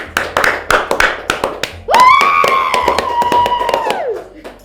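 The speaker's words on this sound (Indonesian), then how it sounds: "Tepuk tangan." Hands clap about seven times in a brisk, close, sharp rhythm, then a sustained gliding tonal sound takes over for a couple of seconds while a few more claps continue under it before it fades.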